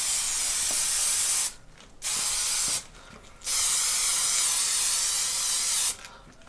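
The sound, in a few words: spray paint can spraying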